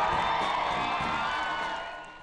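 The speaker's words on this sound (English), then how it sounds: "When the bus with the new Prime Minister and her ministers pulled up and Ms. Ardern stepped out, a big cheer went up." An outdoor crowd cheers and whoops as New Zealand's new Prime Minister Jacinda Ardern steps off a bus with her ministers after being sworn in, a dense roar that fades over about two seconds.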